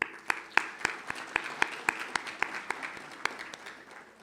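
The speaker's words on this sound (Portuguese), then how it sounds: "Uma salva de palmas" Audience applause at a business panel event as a moderator is called to the stage; a fairly sparse, rhythmic run of individual claps rising and fading over a few seconds.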